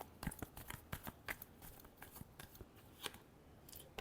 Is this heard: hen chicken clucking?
no